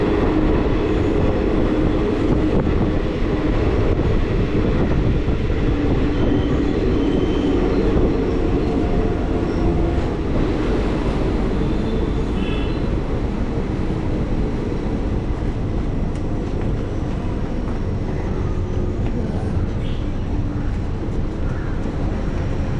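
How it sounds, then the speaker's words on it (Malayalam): The Tambaram Mangalore Express rolls into Pattambi station with a continuous, loud rumble and rattle of wheels and carriages, heard from on board for a long stretch. "അങ്ങനെ ട്രെയിൻ ഇതാ പട്ടാമ്പി സ്റ്റേഷനിലേക്ക് എത്തി"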